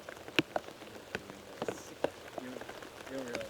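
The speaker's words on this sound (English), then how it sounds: "also they've been in the rain for so long" Rain falls steadily on a golf course during a men's final, a soft wash of drops with scattered sharper taps and brief murmurs of nearby voices.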